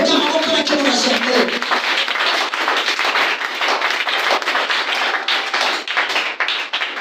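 Congregation at a church worship service applauding together, a dense, sustained wash of many hands clapping that fills the room for several seconds without letting up.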